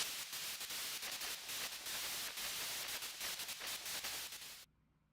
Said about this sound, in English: White noise on the screen will signal the start of battle